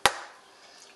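An egg for blueberry muffin batter being cracked, a single sharp, close crack followed by a short, faint trailing sound.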